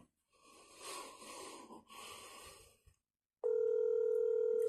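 A telephone rings: a loud, steady electronic tone starts abruptly after a breathy, wheezing stretch and a short silence.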